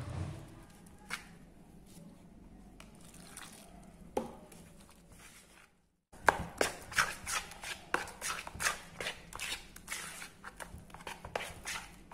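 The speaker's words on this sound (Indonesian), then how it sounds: "Sekarang kita tambahkan air sebanyak 400 ml yang kita tambahkan secara bertahap. Ini kita aduk-aduk ya" Wheat flour and water batter for kiwi fried bread is stirred in a bowl, giving irregular wet scraping and clicking strokes that grow quicker and louder after a brief pause.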